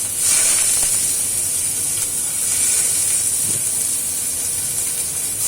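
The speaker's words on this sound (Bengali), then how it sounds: "এবার পেঁয়াজটা একটু ভেজে নেব, দুটো পেঁয়াজ।" Two onions frying in hot oil with cumin seeds in a pan for a breakfast dish, giving a steady, loud hiss that runs unbroken throughout.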